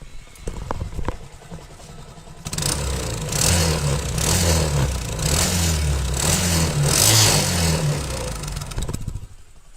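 A repaired Bajaj Discover motorcycle engine idles in a steady low thumping rhythm, close by and fairly loud, after a few seconds of quieter handling sounds, then cuts off near the end.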